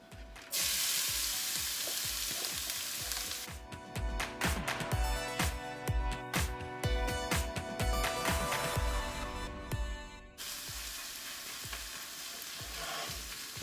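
Steady loud sizzling of hash browns frying in a pan, with scraping and tapping of a utensil pressing and spreading them flat partway through.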